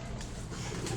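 A racing pigeon coos briefly at the loft while birds are clocked in after a race, a short low call set against steady, noisy background sound.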